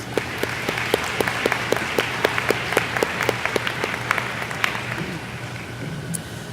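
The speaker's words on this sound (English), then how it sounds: "So let's give our faculty and staff a round of applause." Audience applause at a graduation ceremony for a class of 2015, a steady wash of many hands clapping with distinct individual claps standing out, sustained throughout and easing slightly toward the end, with no talking.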